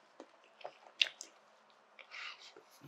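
Soft, wet chewing of spicy charcoal-grilled chicken skewers with rice, a few squishy bites and smacks, close up and quiet, no talking.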